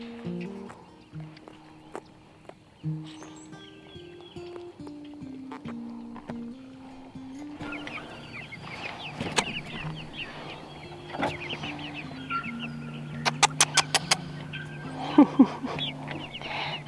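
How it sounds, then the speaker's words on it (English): Young hatchery chicks, some of them black mixed-breed birds, cheep and cluck softly in a brooder, with a steady run of small peeps and a few sharper calls near the end over a low background hum. "So these are the chicks we got from McMurray Hatchery"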